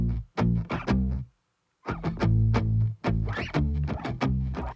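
Layered electric guitars doubled for thickness with bass from a song production play short loud chordal bursts, pausing briefly before resuming in a steady, dense rhythm.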